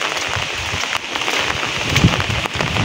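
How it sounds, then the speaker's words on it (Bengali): Heavy downpour in Rajbari district, Bangladesh, hisses loudly and continuously, with dense drops pattering on surfaces close by and no talking. "চারিদিকে দেখেন খালি সাদা সাদা আকারে বৃষ্টি হইতেছে"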